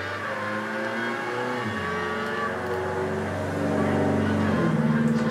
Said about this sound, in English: Sorry for that car noise. The window's open, so yeah.